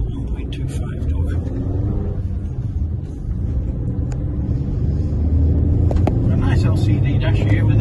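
A 2011 Chevrolet Spark 1.2 LS, a small five-door hatchback, pulls away up a hill, its engine a steady low rumble that builds and thickens under continuous close-up narration.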